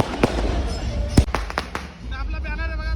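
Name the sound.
fireworks exploding at Bhim Jayanti celebration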